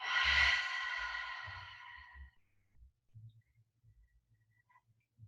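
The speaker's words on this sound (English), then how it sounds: "Biggest breath out." A deep, loud exhale through the mouth during a guided yoga breathing exercise, a long breathy rush that fades over about two seconds, followed by faint low thumps.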